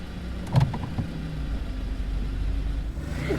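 A car drives along, its engine a low, steady hum with a brief thump near the start, fairly quiet and without talk.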